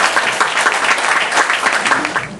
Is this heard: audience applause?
yes